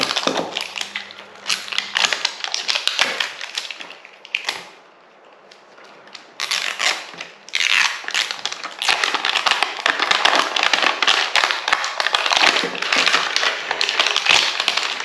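A stubborn plastic blister pack of Disney 100 surprise capsules is pried and torn open close by, giving dense bursts of crinkling, cracking and snapping plastic with a brief pause midway before the crackling resumes.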